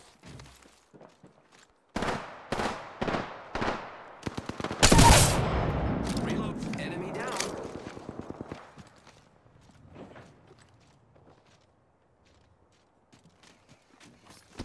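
Rapid bursts of gunfire during an Apex Legends match, starting as a few sharp separate shots, then a dense loud volley with ringing tail, fading into scattered faint shots and footsteps.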